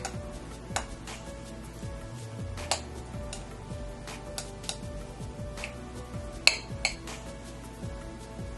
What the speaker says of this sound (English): So I'm just going in with my knife and cutting up these chunks of egg yolk.